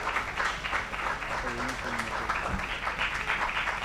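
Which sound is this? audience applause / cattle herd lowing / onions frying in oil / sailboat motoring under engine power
audience applause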